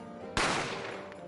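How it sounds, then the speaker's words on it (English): A single loud gunshot rings out in the Ace Attorney game, an abrupt crack that decays into a fading echo with nothing else around it. "I didn't have time to think about where the sound of the gunshot came from."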